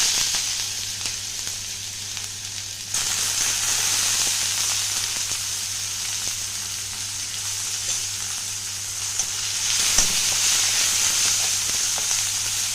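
Chopped onion and grated ginger fry in a pan over low gas, giving a steady close sizzle that swells into a brighter, hissier crackle as more goes in, with occasional soft stirring taps.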